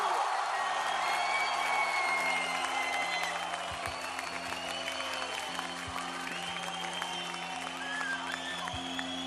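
A television studio audience on Beyaz Show applauds and cheers to welcome a rapper, a sustained wash of clapping with scattered whoops over a low hum of stage music.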